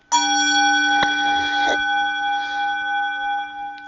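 A gong is struck once at close range, ringing out with a loud metallic attack and a long, shimmering sustained tone that slowly decays, heard alone without talk.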